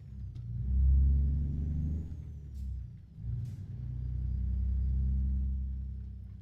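A truck engine in American Truck Simulator rumbles low as the rig pulls onto the road, swelling as it accelerates, dipping briefly as the gears shift, then settling into a steady drone.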